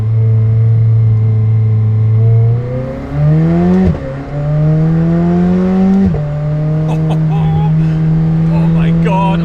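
A McLaren car runs hard through its gears: loud, continuous engine drone whose pitch climbs, drops sharply at two upshifts, then climbs again, with brief clicks and rattles near the end.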